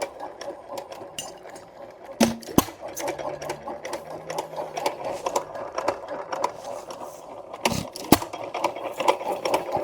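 A vintage Amanco Associated Hired Man stationary engine runs steadily, its rapid rhythmic firing beats continuing evenly and close by throughout.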